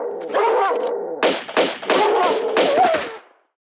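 A dog in the Venice level of the video game Tomb Raider 2 barks and growls in several loud, close bursts over a few seconds, then stops.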